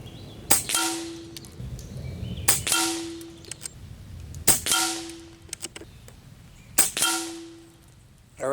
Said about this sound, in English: Maybe I just need to relax more when I'm shooting this gun.